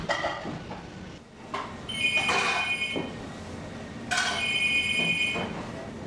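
Late at night in a restaurant being tidied up, a telephone rings in two shrill bursts separated by a pause, with faint rustling and clatter underneath.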